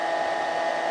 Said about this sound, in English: I have a blow dryer turned on